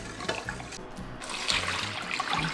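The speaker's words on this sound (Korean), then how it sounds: "물 부어서 한번 건지 줄게요" Water poured over lettuce seasoned with sea salt for water kimchi, a loud close gush of running, splashing water that keeps going through the whole stretch with a brief dip partway.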